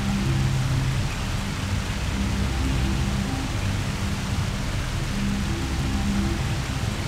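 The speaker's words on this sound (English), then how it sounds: "Follow me. I found something by the waterfall." Steady roar of a jungle waterfall in the PC game Marine Sharpshooter II: Jungle Warfare, a dense, unbroken wash of falling water that stays constant and fairly loud throughout with no talking.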